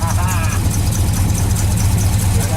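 A 1968 Ford Galaxie's engine idling at night with the hood off just after a cold start, a steady low loud rumble close by, with voices talking over it.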